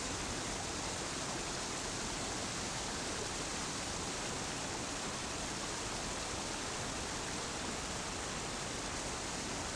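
A Patagonian river rushing during a team crossing gives a constant, even hiss of churning water that holds unchanged throughout, fairly soft and with no voices.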